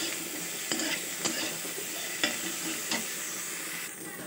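Eggplant and potato fry in a pan with a steady, close sizzle, broken by a few sharp clinks and scrapes of a spatula stirring them through.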